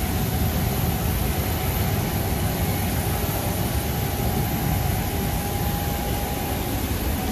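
Steady, loud broadband roar of a jet airplane landing in Los Angeles, constant throughout with a faint steady whine on top; no voices.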